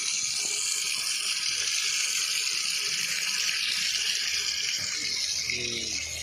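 Water runs steadily from a tap as a constant bright splashing, fairly close and unbroken. A faint voice comes in briefly near the end.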